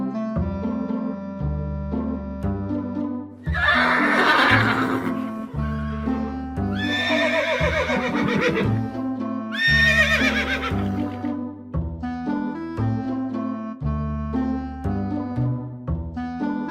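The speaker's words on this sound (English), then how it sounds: "A horse." Horse whinnying loudly in bursts over a backing of steady music, several neighs rising and falling across the stretch, with a farm-animal setting.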